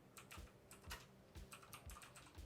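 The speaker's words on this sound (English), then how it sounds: "Now I hear the typing." Typing on a computer keyboard, a quick irregular patter of soft clacking keystrokes, faint and steady throughout with no voices.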